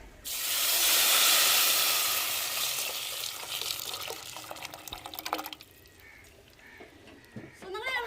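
Rasam poured into a hot tempering of mustard seeds, urad dal, tomato and curry leaves, a loud burst of sizzling and hissing steam that settles into softer bubbling and stirring, with a voice speaking near the end.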